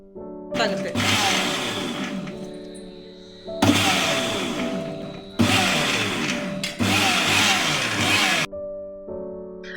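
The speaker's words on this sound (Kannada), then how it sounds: "ಕೊನೆಯಲ್ಲಿ ಪೇಪರ್ ಅನ್ನ ಹಾಕಿ ಮತ್ತೆ ಗ್ರೈಂಡ್ ಮಾಡಿ" A kitchen mixer grinds egg and oil into mayonnaise in four loud, close bursts of whirring motor roar, each running a couple of seconds with short pauses between.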